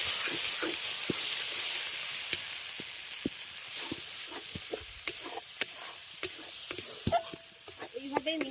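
Soft continuous sizzling of a green pea paste frying in a pan, with scattered scraping clicks from stirring and a brief metallic clink near the end.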